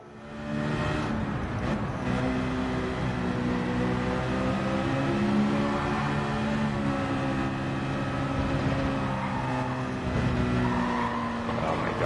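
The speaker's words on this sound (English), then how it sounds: "That Cayman sounds like crap." A Porsche Cayman's engine in the racing game Gran Turismo 7 drones steadily through a race, its pitch rising and falling with shifts, with occasional tire squeal.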